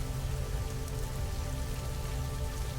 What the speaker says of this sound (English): rain falling from the skies above